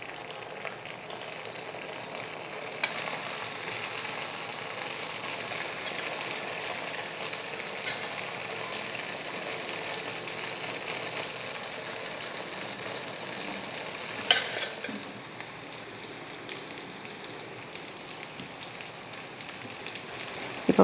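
Unniyappam batter frying in oil in a paniyaram pan, a loud continuous close crackling sizzle throughout, with a brief clatter near the end.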